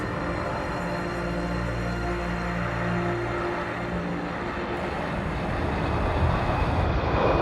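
An aircraft flying over British airspace, a steady, loud engine roar that holds throughout and swells slightly toward the end, with no talking.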